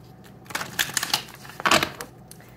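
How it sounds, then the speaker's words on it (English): A deck of tarot cards is shuffled by hand in a few quick, close riffling bursts of papery clatter, separated by quiet gaps. "Let's do another shuffle"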